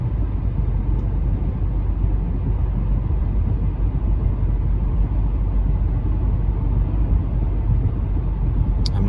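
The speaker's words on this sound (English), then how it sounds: "Hopefully you guys can hear the suspension as it articulates." Steady low road rumble from inside a high-mileage 2011 Toyota Camry 2.5-liter four-cylinder at about 50 mph, worn suspension working underneath, continuous and loud with no talk.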